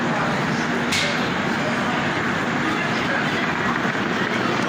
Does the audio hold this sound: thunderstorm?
no